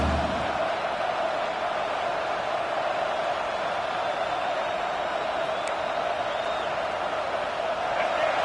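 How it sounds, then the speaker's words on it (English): A football stadium crowd roars in a steady, distant wash as the home defense tries for a red-zone stop, sustained and even with no distinct peaks. "The crowd getting behind this defense as they try to get a stop in the red zone"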